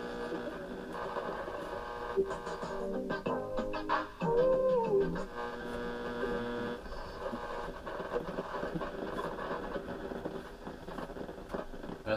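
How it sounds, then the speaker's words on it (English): An AM stereo broadcast tuned near 1240 on a late-1970s or early-1980s GE (Motorola) boombox plays steadily through heavy hiss and static, with faint voices buried in the noise throughout. "That sounds like AM stereo, the AM automatic AM stereo thing, right around 1240"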